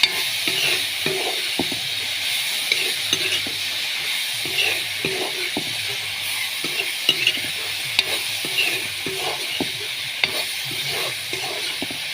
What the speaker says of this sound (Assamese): এতিয়া ইয়াৰ লগত মিলাই দিম